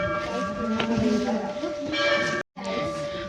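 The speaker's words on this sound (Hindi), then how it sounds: "यहाँ को देखो इतनी घंटियाँ लगा रखी है" Many bells hung at a Hindu hilltop temple ring out with repeated metallic clangs over ongoing crowd murmur and voices, the ringing close and fairly loud with a brief cut near the end.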